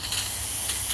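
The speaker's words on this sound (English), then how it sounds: "spray them, clean it and put on the side" Aerosol cleaner sprayed onto Briggs and Stratton small-engine carburetor parts for a lawn mower, a steady close hiss lasting the full second with slight pulses, no talking.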